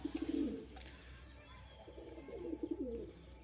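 Young pigeons cooing in a loft, two soft bursts of low rolling coos close by, the first near the start and a longer run toward the end, with a steady low hum underneath.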